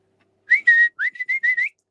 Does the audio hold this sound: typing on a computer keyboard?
no